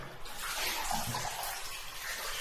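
Cold water runs from a tap in a steady, splashy stream close to the microphone, continuous and unbroken with no talking.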